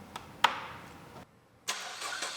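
A 2014 Chevy Cruze with engine damage is started in a shop: a sharp click and a cranking burst, a brief silent pause, then the engine catches and settles into a steady idle nearby.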